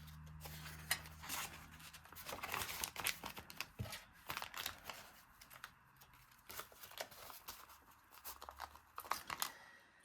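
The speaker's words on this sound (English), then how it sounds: "we're going to tear it at the halfway mark" Patterned 6×6 craft paper is torn in half for a mini notebook, a quiet, close rip with soft crinkling and scratchy fibrous tearing spread over several seconds, no voices.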